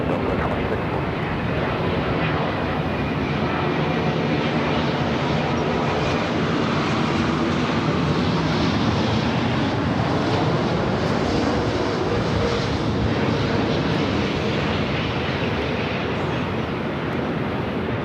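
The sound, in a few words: Delta airliner taking off from LAX runway 24 left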